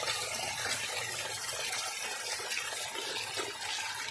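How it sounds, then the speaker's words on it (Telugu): A river drops over a forest waterfall, giving a constant, full rushing roar with no pause. Nearby and fairly loud, with no voices over it. "చూడండి, ఒక నదీ ప్రవాహం వాటర్ ఫాల్లో ఎలా అవుతుందని మనం క్లియర్గా చూడవచ్చు."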